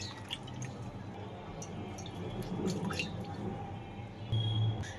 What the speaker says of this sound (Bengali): এখানে আমি কিছুটা পরিমাণ পুদিনা পাতা নিয়ে নিচ্ছি। একটু ভালো করে ধুয়ে নেই।